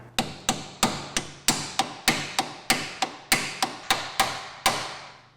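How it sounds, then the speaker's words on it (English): A lump hammer taps bolts back into the suspension of a Dodge Grand Caravan during a passenger-side axle replacement, giving about fifteen sharp metallic strikes in a steady, fairly quick rhythm, close and loud, with no talking. "So we'll tap these back in with our lump hammer."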